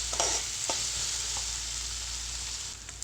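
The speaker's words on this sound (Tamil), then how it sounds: "இப்போ பாருங்கள், வெங்காயம் நல்லா வதங்கி எண்ணெய் பிரிஞ்சு வர ஆரம்பிச்சிருக்கு." Onions frying in oil with salt for chana masala give a steady, close sizzle throughout, broken by a few soft clicks of stirring.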